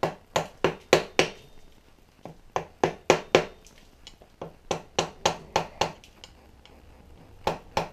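Repeated sharp metallic taps, some twenty strikes in quick uneven bursts, close and loud, as lock washer tabs are bent back on a Suzuki DRZ 400 front sprocket.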